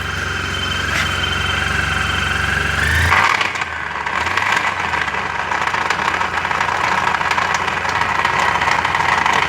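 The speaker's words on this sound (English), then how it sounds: "Here's the noise. I've determined it's coming from the final drive." A Suzuki Burgman 650 scooter runs close and loud with a rough mechanical drone from a faulty final drive, shifting in tone after about three seconds and continuing steadily, with no talking.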